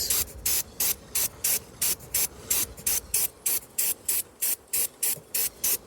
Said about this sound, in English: What I'm going to do is now going to apply some more WD-40 onto the chain. Short bursts.